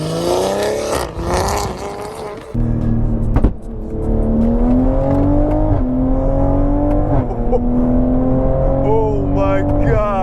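A 530 whp Toyota Supra MK5 engine revs hard and loud from close range, its rising, falling tone held for several seconds after an abrupt start. A short pop comes in the middle.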